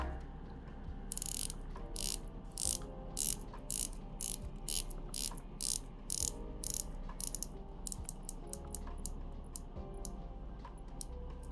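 Clicks from a titanium dive watch bezel being turned, a slightly misaligned ratcheting bezel, come in quick bursts of sharp, close ticks separated by short pauses, quiet and crisp with no talk.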